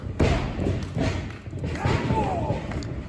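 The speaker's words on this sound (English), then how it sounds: "Just all his body weight behind that. Beautiful spine buster." A wrestler is driven down onto the ring mat with a spinebuster during a wrestling tournament show, giving a few heavy thuds under a commentator's steady talk and crowd noise.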